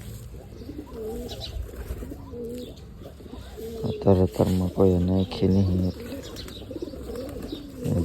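Pigeons coo nearby in a series of soft throaty bursts from a flock kept by a fancier, while someone talks over and between the calls.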